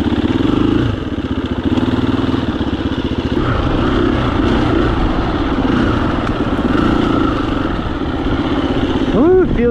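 A dirt bike on a loop trail runs with a steady, loud engine drone and mechanical clatter. The engine holds a fairly constant pitch throughout, with no talking heard.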